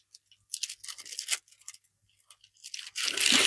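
Crepe paper petals for a large daisy flower are scrunched and crushed by hand, giving bursts of close crinkly rustling that build to a loud, sustained crunch at the end.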